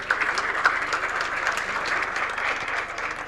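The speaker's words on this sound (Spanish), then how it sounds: "despedimos nuevamente con un aplauso a Georgina, Fernando, Angelén y Claudio." Audience at an industry summit applauding speakers, a dense, steady wash of many hands clapping throughout, fairly loud and close, with no talking.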